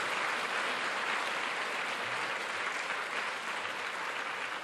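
A church congregation breaks into full, sustained applause, a loud and even wash of clapping with no break.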